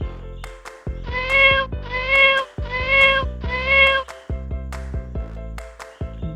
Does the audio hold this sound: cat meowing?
yes